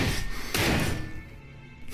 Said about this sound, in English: We attack again and again on the door.